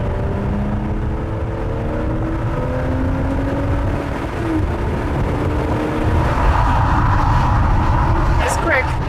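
An Aston Martin Vanquish accelerates hard in sport mode with traction off, its engine note rising through gears as heard from inside the cabin, with road rumble and people talking over it.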